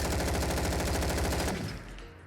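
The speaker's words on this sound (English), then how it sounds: "I'll go ahead and show you what fully auto looks like on this weapon." A fully automatic rifle fires in Fallout 4 as a dense, loud, rapid burst of shots lasting about a second and a half, then cuts off and leaves a fading echo.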